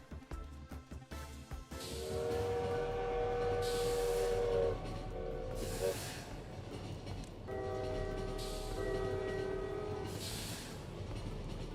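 A train horn sounds in the video game Lobotomy Corporation, sustained blasts over a low rumbling roll with a second long horn call later, loud and close, with no talking.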